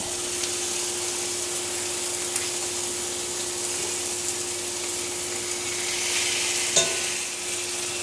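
Fatty lamb blade shoulder chops frying in a cast iron pan, a constant close hiss and sizzle with one brief louder spatter near the end and no talking.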